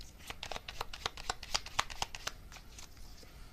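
Tarot message cards are shuffled by hand nearby in a quick run of crisp riffling flicks that soften toward the end.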